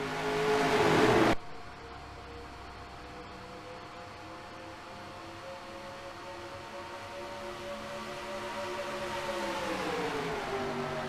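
Race cars roar off at the green flag of the Turkey Hill 150 at Pocono: a brief loud burst, then a sustained droning pack of engines that swells gradually.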